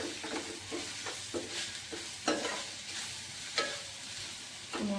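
Kashmiri red chili powder and garam masala mixture being stirred in a pan over a lowered flame, a spoon scraping in irregular strokes with a few sharper clinks over a faint steady sizzle.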